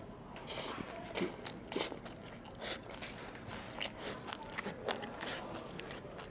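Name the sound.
biting and chewing seafood mixed with seaweed and vegetables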